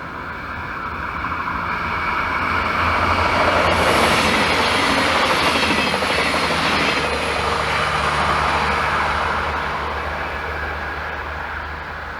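A regional S-Bahn electric train passing on an overgrown line, a broad rumbling roar that swells to a peak in the middle and then slowly fades away.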